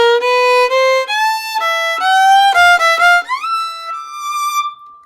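A swing improvisation lick, played alone as a clear, bright melodic line of distinct sustained notes stepping through a quick phrase and ending on a held tone.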